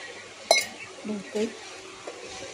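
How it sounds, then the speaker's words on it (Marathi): A lid lifted off a cooking pot of dal dhokli, one sharp metallic clink followed by softer clatters of metal against the pot, close and fairly quiet in a home kitchen. "आपण झाकण काढू."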